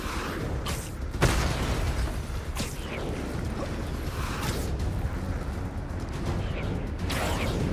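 Railgun fire in Marvel's Spider-Man 2, several heavy booming blasts spaced a second or two apart over a rumbling, mechanical game backdrop.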